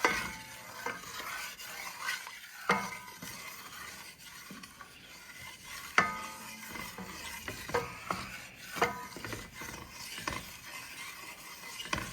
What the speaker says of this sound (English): Just to keep stirring and stirring.